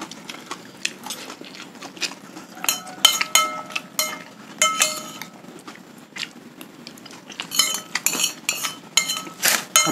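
Spoons and cutlery clink and scrape against dishes during a simple village meal of rice with broth, with steady irregular clatter, close and fairly loud, and no talk.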